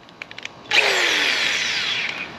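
A power drill spinning a stripe remover wheel on a car whirs up after a few light taps, spinning steadily with a bright, rough grinding hiss that holds for about two seconds.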